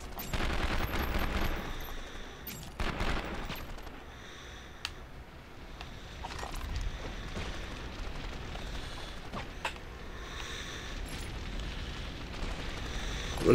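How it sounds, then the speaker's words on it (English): Gunfire in the PS2 video game 24: The Game, dense sustained bursts running across the whole stretch, loud and continuous with occasional sharper cracks, no voices over it. "Still shooting me."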